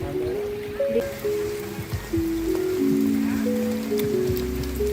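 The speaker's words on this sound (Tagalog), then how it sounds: "Maulan sa Bagak." Steady rain patters at a beach campsite in Bagac, Bataan, across the whole stretch, with a low hum and some tonal sounds mixed in underneath.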